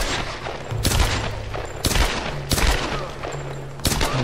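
Gunfire in the Tomb Raider video game, with four sharp loud bursts of shots at roughly one-second intervals over a low background hum.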